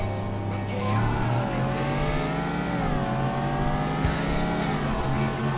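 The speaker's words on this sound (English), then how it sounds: "V8, just with a exhaust note that makes it sound like it's a V10." A Lotus Esprit V8 in the racing game TXR3 revving steadily, a loud continuous engine drone whose pitch climbs and dips as the car accelerates and shifts, with tire noise underneath.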